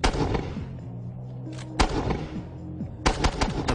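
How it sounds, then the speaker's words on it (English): A Mark 19 machine gun fires, heavy booming shots landing in clusters with loud sharp reports and ringing decay between bursts, close and with no voices. "The Mark 19 has a rapid rate of fire of 400 rounds a minute."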